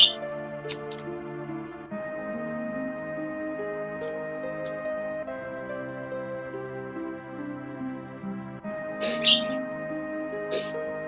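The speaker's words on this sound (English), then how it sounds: "If you hear the birds in the background, I have several parakeets." Several pet parakeets call in the background: sharp high chirps and squawks at the start and a busier burst near the end, over a steady layer of game music.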